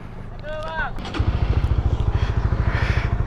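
A Honda RS-X motorcycle engine starts with a short whirring crank and then idles in a loud, steady, fast-pulsing putter, close by with a voice in the background.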